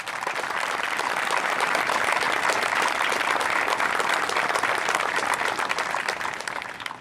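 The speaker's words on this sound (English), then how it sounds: "Let's give them a round of applause." An audience at a fire academy graduation applauds in a dense, sustained roar of clapping that holds steady throughout without talk.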